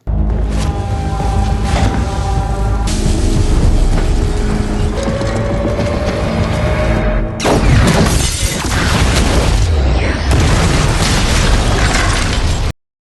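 Explosion from The Equalizer 2 film, a loud sustained blast with crackling debris and metallic rattling, a sharp renewed burst midway, continuous dense roar throughout with no talk.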